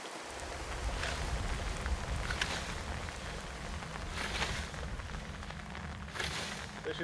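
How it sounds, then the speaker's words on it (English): Heavy pouring rain falls over a wheat field at harvest time, a steady close hiss with scattered sharper bursts of splashing throughout, and no voices. "Cut to shot of absolute pouring rain."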